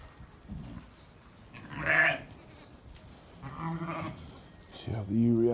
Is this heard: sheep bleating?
yes